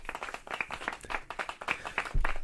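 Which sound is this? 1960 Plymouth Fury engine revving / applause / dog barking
applause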